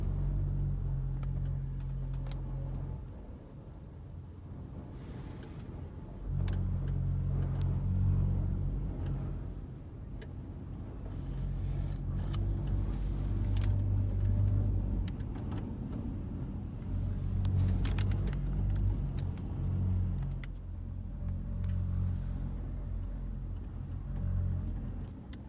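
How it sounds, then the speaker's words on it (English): Strong wind buffets the microphone outdoors among blowing tumbleweeds, a continuous deep roaring rumble that surges and eases in gusts, loud and close, with no one speaking. "The wind is so crazy right now."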